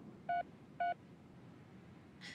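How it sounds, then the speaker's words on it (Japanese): Two short touch-tone beeps of a mobile phone number being dialed in a Japanese mystery adventure video game, faint and evenly spaced, with a softer chime at the end over quiet background hum. "カナンは番号を押し始めた"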